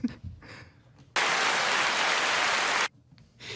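Steady applause from podcast hosts bursts in abruptly, fairly loud and even, holds for under two seconds, then cuts off sharply, with quiet talk before and after.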